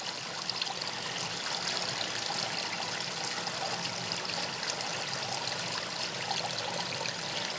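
Hot melted beeswax poured through a strainer gives a steady, continuous trickling and splashing that is close and fairly loud, with no talk.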